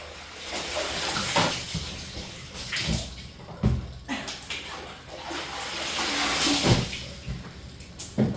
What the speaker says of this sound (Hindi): अपने कपड़े जल्दी जल्दी खंगाल लेते हैं